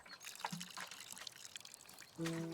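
Water pours from a pot in the video game Botany Manor, a light trickling splash lasting a couple of seconds, followed by a brief tonal game chime at the end.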